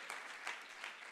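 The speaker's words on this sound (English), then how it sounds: "Give them a good round of applause." Brief, faint audience applause in a hall, a soft continuous patter of many hands with a few slightly stronger bursts.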